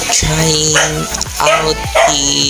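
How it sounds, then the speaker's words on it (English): Several dogs bark in short bursts at close range, three sharp outbursts with yips spread over a few seconds, while someone speaks over them indoors during a makeup session. "sorry for that barks, sorry for my dogs."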